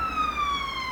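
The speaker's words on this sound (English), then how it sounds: "An ambulance going past when I'm talking about injuries doesn't bode well, does it?" An ambulance siren passes nearby outdoors, a loud steady wailing tone sliding gradually lower in pitch as it goes by, heard alone without talk.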